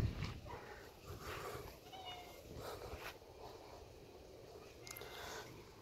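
Polydactyl cat with six toes on its back feet gives faint, soft meows in a quiet spot while someone talks nearby.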